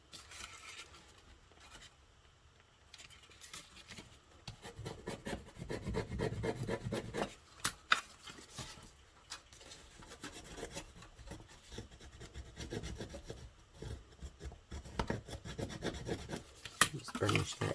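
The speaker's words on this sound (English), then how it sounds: "Just burnish that down" A folded paper gift box, sized to hold a 3x3 sticky-note pad, is burnished flat by hand, making soft, irregular rubbing and rasping strokes that come in uneven bursts with quiet gaps between them.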